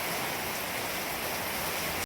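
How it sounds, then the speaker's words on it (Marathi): Heavy rain pours down steadily at a farm, a dense, continuous hiss close by that holds at an even level for the whole stretch before cutting off abruptly, with no voices. "एवढा पाऊस चालू आहे शेळ्या पण आल्या."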